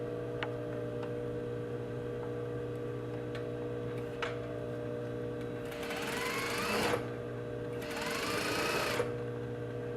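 A sewing machine stitches a fly front seam in two quick bursts of rapid mechanical whirring over a steady background hum, close and fairly quiet.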